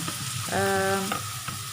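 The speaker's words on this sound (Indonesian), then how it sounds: "kita tumisnya sampai agak layu" Chopped vegetables sauté in a hot wok for mutton biryani, a steady close sizzle with scraping and stirring clatter, one louder burst of frying in the middle, no voices.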